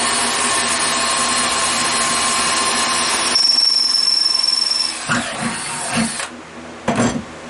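A loud, steady whine of a power drill boring through aluminum runs for several seconds, then shifts to a higher screeching grind before stopping in short bursts.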